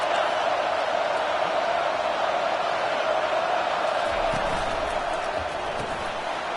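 Stadium crowd at a Michigan football game, a dense continuous roar of cheering that stays loud and even throughout, with faint talk beneath it.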